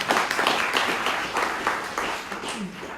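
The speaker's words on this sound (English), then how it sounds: "So give them another round of applause." A crowd at a bushfire community meeting in Mallacoota, Australia, claps in a steady patter of applause, moderately loud and fading slightly toward the end.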